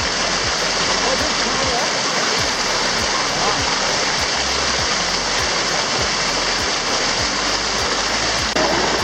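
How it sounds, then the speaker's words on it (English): A hot spring waterfall in Krabi, Thailand, pours in a loud, dense, continuous rush of falling water close by. It stays steady throughout with no pauses. "It is a hot spring waterfall."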